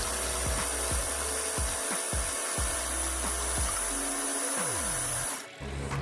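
A blender grinds watermelon, beetroot and lemon into juice, its motor whirring loudly and steadily with repeated dips and surges in pitch as the blades churn the fruit, cutting off abruptly near the end.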